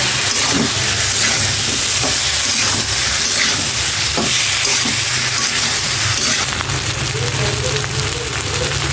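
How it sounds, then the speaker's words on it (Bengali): Spice paste stirred and fried in a pan with a little water added, a steady loud sizzle with faint scraping stirs throughout. "সামান্য পরিমাণ পানি দিয়ে মশলাটা ভালো মতো কষিয়ে নিচ্ছি, কাঁচা গন্ধটা যাতে চলে যায়।"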